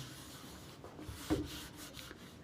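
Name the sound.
rubbing out writing on a board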